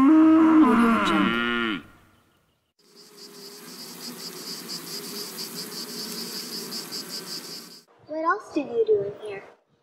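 Cows low inside a farm barn near the end, after a stretch of steady insect and cricket chirping, with a person talking at the start.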